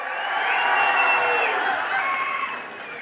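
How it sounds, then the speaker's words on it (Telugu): A large crowd at a political rally roars and cheers loudly, with whistles and shouts rising and swelling over a dense, continuous wash of applause. "అవునంటే గట్టిగా చప్పట్లు కొట్టండి"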